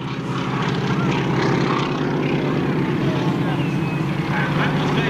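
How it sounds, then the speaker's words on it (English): A 1940s-design Boeing Stearman biplane flies overhead at the Biggin Hill Air Show. Its propeller engine gives a loud, steady droning roar that holds throughout. "These guys flying on a 1940s design Boeing Stearman biplane"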